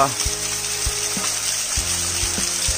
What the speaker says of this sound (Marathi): हा धबधबा